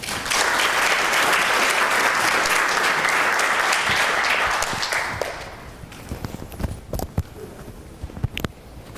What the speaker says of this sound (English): So with that, if you give me a warm welcome round of applause for Ms. Karen Raczynski.